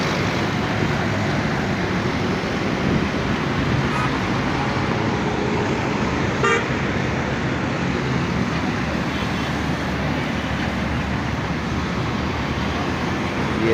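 Heavy road traffic rumbles continuously near Sher Shah Paracha Chowk in Gulbai, where large vehicles pass. The drone is dense, close and steady, with a few faint higher sounds in the mix.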